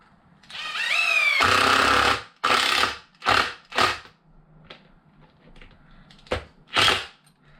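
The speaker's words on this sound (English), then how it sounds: "I'm going to throw a couple of screws in this just to keep the chassis down." A power driver runs screws into the chassis of a Mojave RC car, a long whirring burst followed by several short, close buzzing pulses as the screws seat, with quiet pauses between.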